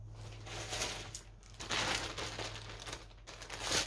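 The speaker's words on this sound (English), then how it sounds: "I keep everything in plastic bags." Plastic bags holding yarn and fiber crinkle and rustle close by in irregular bursts, with no talking over the sound.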